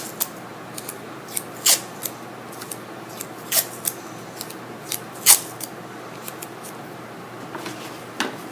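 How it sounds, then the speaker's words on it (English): Small pieces of tape are ripped off a roll at a desk, giving brief crisp tearing and crackling bursts scattered at irregular intervals over a quiet background, close and fairly faint. "Let's rip off some small pieces of tape."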